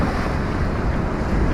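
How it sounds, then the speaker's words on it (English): Choppy water near the Rhine Falls, heard from a tour boat, gives a constant, loud rushing wash mixed with heavy wind buffeting on the microphone, with no clear individual wave breaks. "Look at the waves, they're going crazy"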